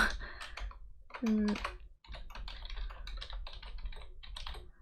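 Keys clatter in quick, uneven bursts of typing on a computer keyboard, close and fairly quiet, with a short stretch of voice or tone partway through and a brief pause near the two-second mark.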